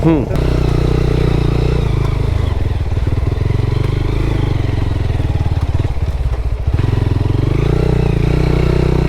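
Motorbike engine labouring loud and close as it climbs a steep hill at Sukhiya Valley in Lama, Alikadam, a steady heavy drone with rattling clatter and slight revving throughout.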